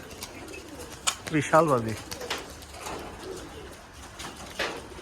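Pigeons at a farm for high-flying racing pigeons coo in brief bursts, a clear run of coos near the start, with someone talking and faint outdoor ambience around them.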